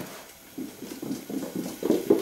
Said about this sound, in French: c'est le chat que vous entendez faire un sprinter.